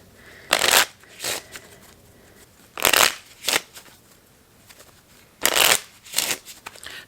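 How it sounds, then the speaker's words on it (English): A deck of playing cards is riffle-shuffled up close, with three rounds of quick crisp riffles, each followed by a softer bridge or squaring of the deck, and no talk. "let's shuffle"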